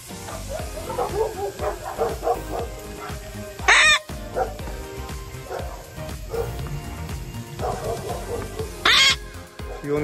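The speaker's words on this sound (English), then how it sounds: "she will make a noise calling out to a flock" A pet bird gives repeated loud calls to a flock in short bursts, separated by pauses, with two sharp squawks standing out; no talking.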